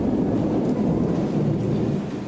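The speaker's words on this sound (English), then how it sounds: "Sounds like the thunder is chaining, which does happen once in a while." Dense, continuous rumble of thunder rolling through a storm in the video game Bravely Default, loud and steady with rain hiss over the top, no pauses.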